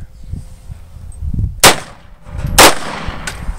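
Two sharp, loud gunshots ring out about a second apart on a firing range, each a sudden crack with a short ringing decay, set against low background rumble and faint movement.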